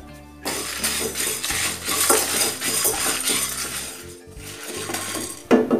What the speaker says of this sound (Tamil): இதெல்லாத்தையும் நம்ம நல்லா வறுத்துக்கலாம்.